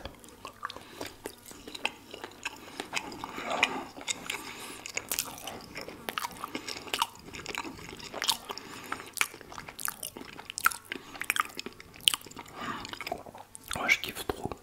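Close, quiet mouth sounds of someone eating sushi dipped in sauce: repeated soft bites, wet chewing and faint crunches in an intimate setting, with occasional hushed speech between mouthfuls.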